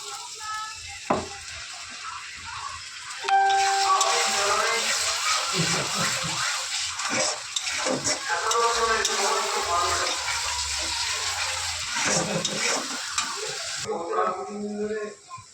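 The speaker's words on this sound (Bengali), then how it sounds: "জিরের গুঁড়ো দিয়ে নেড়ে নিলাম" Spice paste with cumin powder and a splash of water frying and being stirred in a pan for a prawn curry, a bubbling, spattering sizzle that swells after a few seconds and carries on with scraping stirs.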